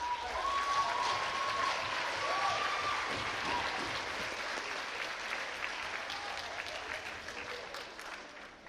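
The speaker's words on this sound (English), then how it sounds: "So I want a big, big, big, big clap." At an athletic banquet, a room full of people claps steadily and loudly for several seconds, the dense applause slowly tapering, with a faint tonal sound briefly audible near the start.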